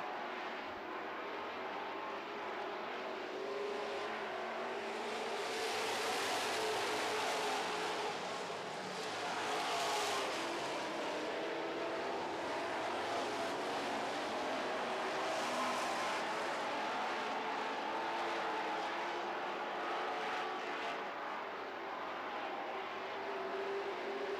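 Super stock race cars in a feature race on a track, a continuous loud engine roar that swells and eases as the pack passes, heard from a distance without talk.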